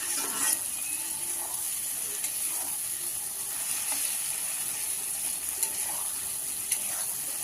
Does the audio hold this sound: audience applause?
no